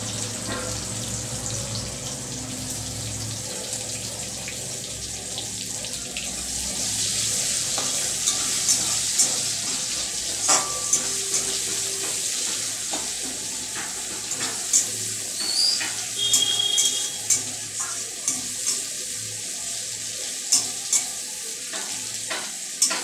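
Onions sizzle in hot oil with whole cumin as they are stirred in a pan, a steady close frying hiss punctuated by scraping and clinking of the spoon against the pan.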